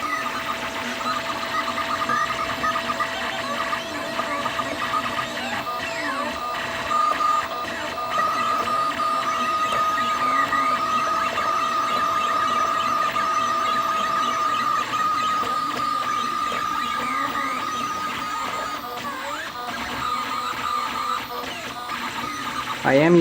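A TRESTLE 3D printer runs while its extruder's stepper motor feeds filament, giving a steady, close mechanical whir with a sustained tonal whine and faint rattling that continues unbroken throughout.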